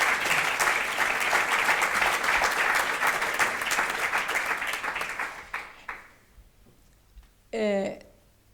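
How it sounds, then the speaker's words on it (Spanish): Audience applause at a book presentation on an anti-discrimination law, a dense sustained clapping that fades after about six seconds, followed by a brief loud burst of another noise. "le pueden aplaudir también por un aplausito."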